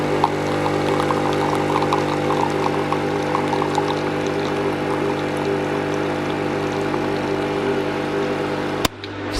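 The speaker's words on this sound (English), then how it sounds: "I've actually got the kettle boiling as well" An electric kettle heats water to a boil, giving off a continuous rumbling, bubbling roar that holds steady and close before a sharp click near the end.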